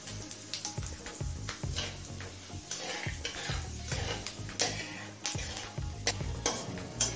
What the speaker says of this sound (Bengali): এবার একই তেলে দিচ্ছি 1 চামচ 5 ফোড়ন।